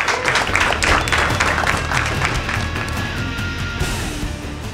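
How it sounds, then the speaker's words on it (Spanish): An audience at a Reebok Combat line launch applauds MMA fighter Marlon Chito Vera, with a dense burst of clapping that gradually thins and fades under crowd murmur and a low hum. "Marlon Chito Vera, un aplauso por favor"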